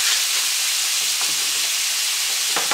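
Beef sizzling steadily as it browns in a pot for a traditional Newfoundland beef stew, a constant close hiss with a few soft clicks of stirring and no talk.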